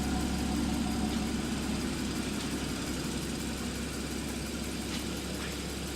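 A 2014 Porsche Boxster roadster with a six-speed manual idles steadily nearby, a smooth, even low engine drone with no revving.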